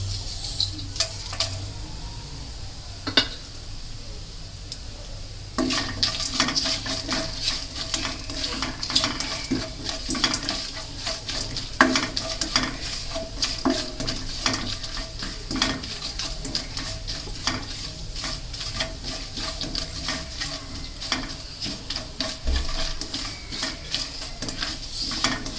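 Cumin seeds and dried red chillies fry in hot oil as a tempering for drumstick leaf palya: a quiet start gives way to a continuous crackling sizzle, with frequent clicks and scrapes of a spoon against the pan and no talking.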